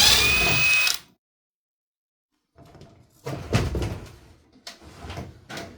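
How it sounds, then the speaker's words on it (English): Small screws being undone at the bottom of an old acrylic bath panel. A second of rushing noise is followed by silence, then scattered close clicks, taps and scrapes of the screwdriver and panel in short irregular bursts. "there were 3 small screws that needed to be unfastened at the bottom of the panel"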